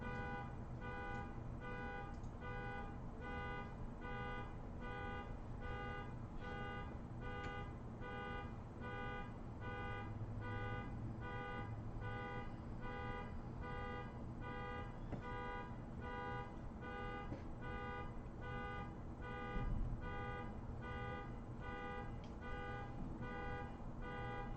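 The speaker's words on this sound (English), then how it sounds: "Meanwhile, there's a car alarm happening." A car alarm sounds outside, cycling through a steady repeating electronic tone pattern for the whole stretch, fairly faint and distant, with no talking over it.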